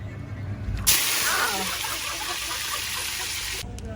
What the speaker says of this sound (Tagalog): First is fry the chicken breast until it golden brown